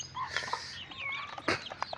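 A hen at a small chicken breeding unit gives a few short, soft clucks and chirps close by in a quiet setting.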